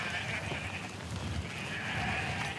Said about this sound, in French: Les brebis sentent le départ.